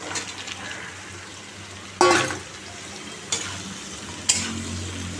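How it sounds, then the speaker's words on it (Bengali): Bottle gourd frying in hot oil in a wok, a steady soft sizzle with a few sharper bursts of crackling as pieces are stirred, close and fairly quiet with no talking. "কড়াইতে তেল দিয়ে দিয়েছি, লাউটা দিয়ে দিলাম।"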